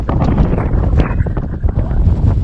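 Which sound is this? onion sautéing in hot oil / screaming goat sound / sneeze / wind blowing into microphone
wind blowing into microphone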